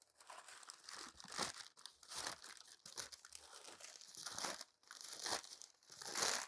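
Packing paper is pulled from a box and crumpled in repeated rustling, crinkling bursts with brief pauses between handfuls, close and alone.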